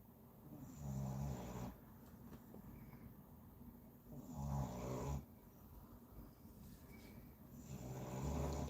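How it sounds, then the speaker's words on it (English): A sleeping dog snores indoors after running around at the park, three slow, deep breaths about four seconds apart, each rumbling for roughly a second over quiet room noise. "He really is snoring."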